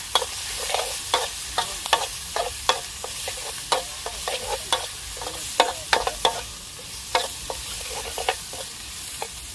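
Spicy snake meat is stir-fried in a wok over very high heat, with a constant loud sizzle broken by sharp, irregular clacks of a spatula scraping and tossing.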